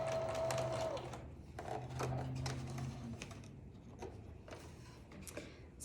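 A sewing machine stitches a diagonal line across quilt fabric, a fast mechanical clatter of needle strokes running in short stop-start bursts, close and moderately loud, without talk.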